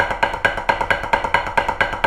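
Rapid sticking on a practice pad, a roll of double strokes with uneven spacing and accents, close and dry, no voices.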